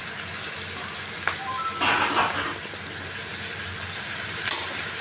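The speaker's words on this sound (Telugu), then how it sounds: "కాసేపు వేగనివ్వాలండి." Capsicum, carrot and tomato fry in a pan for Hakka noodles, giving a steady close sizzle with a few stirring scrapes and bursts and no talking.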